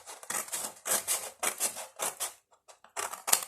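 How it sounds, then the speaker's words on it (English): Scissors snip through paper for a small handmade journal in a series of close, crisp cuts, about seven in a row with a short pause before the last pair. "I do prefer to do this with my scissors"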